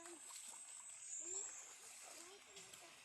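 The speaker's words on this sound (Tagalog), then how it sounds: "Kusog ang agas." A strong current of flowing water rushes with a steady broadband hiss in an outdoor natural setting, while people talk and call out over it.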